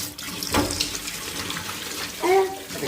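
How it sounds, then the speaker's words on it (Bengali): A tap runs steadily while a newly installed kitchen sink basin is washed, with water splashing and a few squeaky rubbing sounds against the basin. "এখন এটাকে এটাকে লাগিয়ে আমি বেসিনটা ধুয়ে নেব"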